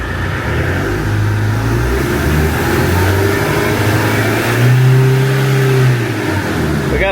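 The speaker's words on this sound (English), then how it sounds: "Let's start the engine up and see if the gauge works." A Land Rover Defender engine runs loud and close, its steady mid-pitched drone rising and falling through several revs with no talking over it.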